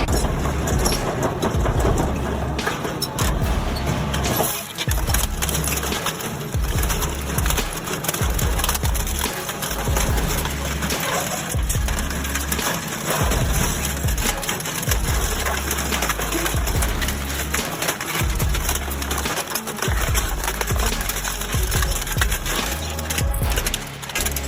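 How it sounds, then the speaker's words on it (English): A giant industrial metal shredder tears through old motorcycles and cars with continuous loud crunching, cracking and grinding. A heavy low rumble runs under it in rhythmic surges across a long stretch, and there are no voices. "This giant metal shredder is not afraid of anything."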